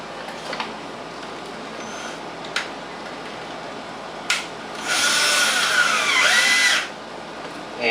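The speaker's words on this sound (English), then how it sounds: "running in 4 simple screws" A power drill drives four screws into an ozone generator cell: short whirring bursts, then one longer high whine of about two seconds, close and clear, with no voices.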